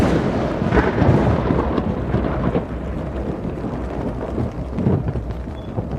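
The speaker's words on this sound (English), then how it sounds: "I could hear rain coming down outside" Steady rain with low rolling thunder outside a tent in a video game, a dense continuous wash that stays loud for the whole stretch with no voices.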